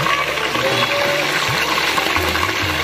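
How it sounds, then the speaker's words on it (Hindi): Fish frying in a pan at home, giving a loud, steady, continuous sizzle with a bubbling, watery texture and no talking. "यह फिलहाल फ्राई हो रही है"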